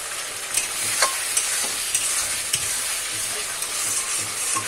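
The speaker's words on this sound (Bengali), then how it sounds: "তো এই যে তরকারি কষানো হচ্ছে।" Ridge gourd curry sautéing in a pan: constant hot sizzle with regular scraping stirs of a spatula, each stroke a brief sharp accent, close and fairly loud with no talking.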